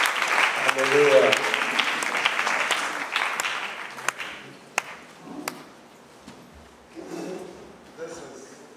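Congregation clapping hands during a church worship gathering in Ghana, a burst of applause under a voice at first, then fading into scattered sharp claps and taps.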